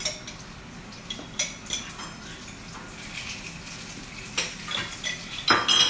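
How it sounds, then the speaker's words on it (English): A spoon scraping the last of the Dijon mustard from a jar, irregular close clinks and scrapes of metal against glass over a low kitchen background, growing busier toward the end. "The last remnants of our Dijon mustard, you just scrape some with a bigger spoon"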